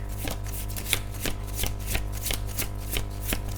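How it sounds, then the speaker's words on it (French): A deck of tarot cards is shuffled by hand nearby, producing a quick series of crisp, regular riffling slaps and flutters for several seconds without any speech. "je me rends compte que je n'ai pas fait le battage de mes cartes habituellement"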